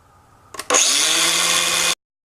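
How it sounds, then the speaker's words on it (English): Small Makita angle grinder fitted with a cutoff wheel cuts through a metal barrel, a brief contact tick followed by a loud, steady high-pitched grinding whine lasting over a second before stopping abruptly. "So here we go, grinding it down. I've got this little Makita grinder with a cutoff wheel."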